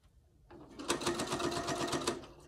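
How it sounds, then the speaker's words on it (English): A sewing machine stitches along the edge of a fabric hot pad, its rapid rhythmic needle clatter starting after a quiet moment and running steadily for about two seconds, fairly quiet and close. "Then I'm gonna take it to the machine, sew from the edge."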